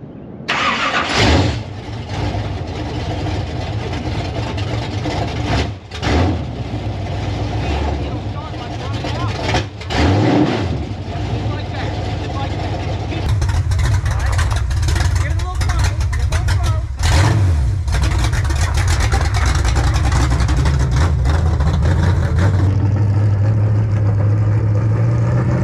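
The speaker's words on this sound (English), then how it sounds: "fire it up" A street stock race car engine cranks and fires, settling into a loud, rough idle with several revs rising and falling throughout, close by, with people talking over it.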